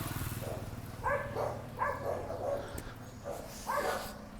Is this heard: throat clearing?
no